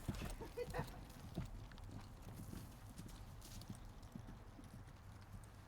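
A horse trotting in a riding lesson, hooves clip-clopping in a steady rhythm at moderate distance, fairly faint, with occasional background voice.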